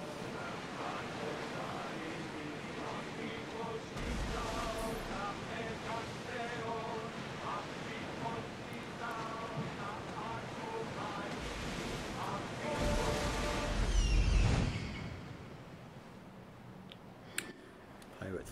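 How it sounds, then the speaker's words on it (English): Rolling ocean waves and wind wash around a rowed trireme at sea in Assassin's Creed Odyssey, a broad continuous surge that swells louder near the end, mixed with clicks and other game sounds. "big waves"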